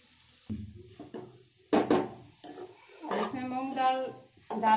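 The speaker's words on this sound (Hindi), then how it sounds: "अब इसी को इस तरह से भूनना है गोल्डन ब्राउन होने तक।" Mashed moong dal being roasted in a pan for halwa, with a utensil clattering and scraping against the pan in uneven strokes, close by, alongside a voice.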